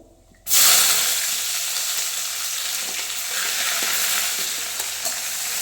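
Chopped onions and curry leaves hit hot oil in a pan with a sudden loud sizzle, then keep up a dense, steady frying hiss. No one speaks.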